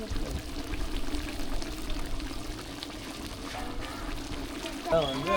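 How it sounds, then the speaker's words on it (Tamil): Curd is poured into chicken biryani, making a soft, wet pouring and trickling sound close by, with a person talking over it. "தயிர் 50 கிராம் போட்டுக்கங்க."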